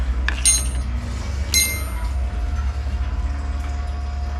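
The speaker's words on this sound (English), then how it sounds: "Almost just lost my wrench." A metal wrench clinks twice against hard surfaces as it is nearly dropped while working on a 1997 Jeep Grand Cherokee, with a steady low rumble underneath and no talking.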